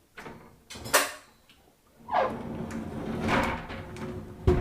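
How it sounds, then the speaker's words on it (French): A door being closed indoors, with a couple of sharp knocks and scraping, shuffling movement between them and a final thud at the end, fairly quiet overall. "On ferme la porte aujourd'hui."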